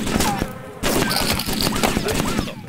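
Gunfire in the survival video game DayZ, with rapid bursts of shots crackling over a dense mix of game noise and muffled voices.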